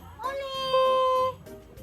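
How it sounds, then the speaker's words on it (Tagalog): Pet cats meow in a household, with a clear drawn-out meow standing out near and loud, followed by softer cries and background voices. "si Pikachu, yung pinakamalaki, si Holly, ang aming mababait na pusa, si Pole,"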